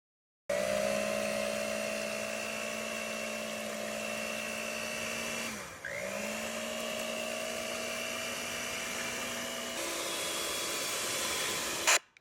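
An electric mixer whips egg whites to stiff peaks for a chocolate cake, giving a steady, fairly quiet motor whine that dips briefly in pitch midway, then shifts speed near the end before stopping.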